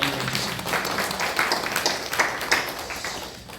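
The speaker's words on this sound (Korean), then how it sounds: "우리 박수로 한번 격려해" Applause from a church congregation during a Korean praise service, a burst of many hands clapping that starts loud and gradually thins and fades, with no talk over it.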